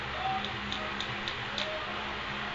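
Dry clay alien figures stuck on pencils are tapped together, making a handful of light, quiet ticking clicks spaced irregularly over a faint background hum.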